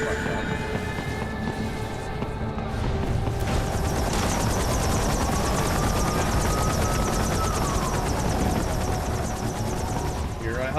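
A helicopter in the video game Metal Gear Rising: Revengeance gives off a steady, loud rotor drone, blended with a dense rain-like hiss that continues throughout.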